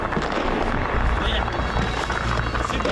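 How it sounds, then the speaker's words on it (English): A helicopter approaches near an airport on the outskirts of Kyiv during the war, a dense, steady rotor rumble mixed with loud commotion and movement throughout. "Here comes the helicopter"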